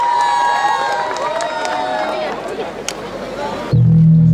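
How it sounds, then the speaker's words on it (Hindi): An audience at a stage event cheers and applauds as the Balaji Aangan Society comes on to perform. The crowd noise is loud and busy with shouts, then gives way to a low steady hum near the end. "सो जोरदार तालियों के साथ प्लीज वेलकम बालाजी आंगन society on stage with their performance."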